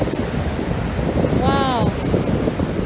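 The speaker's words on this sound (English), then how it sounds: "but the waves are crazy" Wind-blown ocean surf roars steadily on a beach at low tide after a storm, with heavy wind noise on the microphone and a brief tonal whistle partway through.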